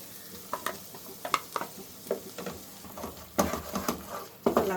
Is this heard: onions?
yes